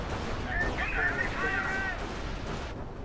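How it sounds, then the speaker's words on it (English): Artillery and grenade fire in a World War II video game, with incendiary grenades landing on a 25-pounder gun; a steady, dense rumble of distant gunfire and blasts continues throughout, with some faint voices mixed in. "Incendiary grenades on the 25-pounder."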